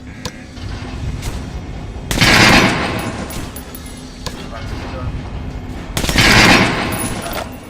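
Gunfire in the video game Metro: Last Light comes in two loud, close bursts of rapid shots over a steady background din, with a voice heard in the scene.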